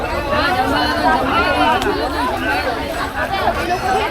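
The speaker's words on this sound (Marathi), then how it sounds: "गर्दी बाबा गर्दी बाबा किती आहे जाम गर्दी" Dense crowd chatter at a packed temple market on a busy Navratri Monday, many overlapping voices close around in a continuous babble.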